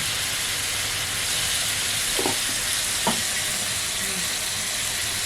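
Chicken with turmeric being stir-fried in a pan, a continuous close sizzle and hiss with two brief scraping stirs partway through.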